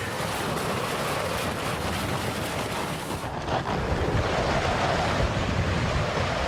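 Strong wind in the high mountains roars in a steady, dense rush that buffets the microphone continuously, loud and unbroken for several seconds with no voices.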